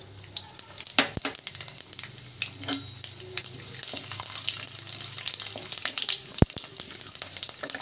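Mustard, cumin and fenugreek seeds sizzle in hot oil, a steady close crackling fry with a few sharp pops and spatters throughout, no voices.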